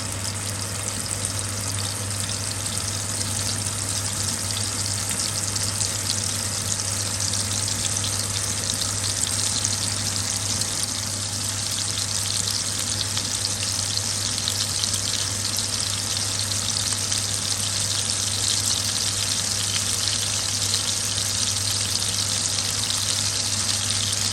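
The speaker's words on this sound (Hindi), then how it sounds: "ऑयल हो गया गर्म। अब एक एक स्टिक को उठाएंगे हम इस तरह से, ये रखते जाएंगे।" Chicken malai tikka skewers fry in hot oil, making a loud, steady, close sizzle that holds evenly throughout, with a low constant hum beneath it and no talking.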